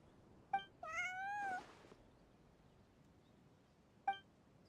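Cat meows in the Genshin Impact video game: one drawn-out mewing call with two short chirp-like meows around it, clear against a quiet background with no talk.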